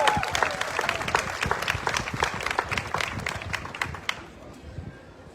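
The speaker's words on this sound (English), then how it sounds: "we're going to give Alan a big round of applause once again" A festival crowd at an honors presentation claps in a round of applause, individual claps distinct and lively, gradually thinning and tapering off toward the end.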